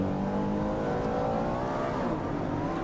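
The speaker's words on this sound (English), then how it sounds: "So now we're back in the NYPD car." A video-game NYPD police car engine revs up with a rising, sustained whine. The pitch climbs steadily over a low rumble, loud and close, with no voices.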